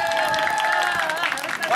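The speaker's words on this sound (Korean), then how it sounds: "자, 응원의 박수 한번 주시기 바랍니다." Crowd applause and cheering for the green team at an autumn company sports day, steady clapping mixed with voices and shouts, fairly loud and continuous.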